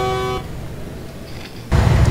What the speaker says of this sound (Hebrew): תן לו איזה צפירה אחת ככה שהוא יעוף